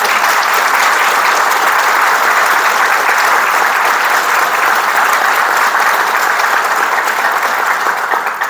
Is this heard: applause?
yes